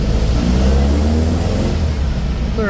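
A Volkswagen 1835cc fuel-injected engine revs steadily on a chassis dyno, a loud continuous close-up drone with shifting tones as it pulls through the gears.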